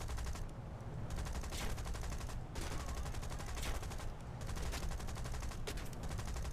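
Aircraft guns firing in the War Thunder combat flight game: loud, sustained rattling bursts of automatic fire with short pauses between them, over a constant engine roar.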